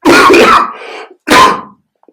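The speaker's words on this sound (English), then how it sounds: "I'm going to have to cough a minute, a second." A loud, close throat-clearing cough in two bursts, a longer harsh one followed by a shorter one after a brief pause.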